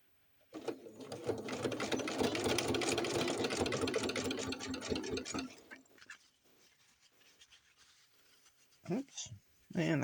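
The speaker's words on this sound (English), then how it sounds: "We will sew one side together" A sewing machine stitches a seam on small doll slacks in one steady, rapid run of about five seconds, close and clear, then stops and leaves faint handling noises and a brief voice.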